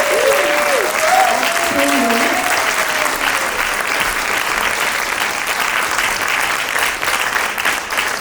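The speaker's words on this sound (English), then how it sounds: "How about a roaring round of applause for, I told you they were amazing panelists." A large audience at a museum opera panel event breaks into loud, sustained applause for the panelists, dense and continuous, with a voice briefly speaking over the start.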